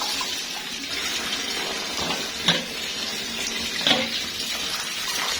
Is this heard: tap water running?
yes